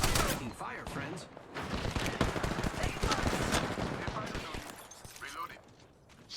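Rapid gunfire bursts crackle through a firefight in Apex Legends, with overlapping automatic shots and impacts running almost continuously across the clip, close and loud, easing off briefly near the end.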